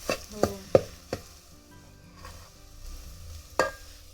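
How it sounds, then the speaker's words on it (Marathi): Masala spices roasting and sautéing for a village-style mutton curry cooked over a wood-fired chulha, with a few sharp stirring and scraping knocks against the pan over a faint, low sizzle. "हा मसाला थोडासा भाजून वगैरे भाजलाच जातो हो, परतला जातो हो"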